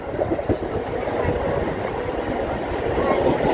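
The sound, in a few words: Churchgate–Virar fast local train with express train overtaking in parallel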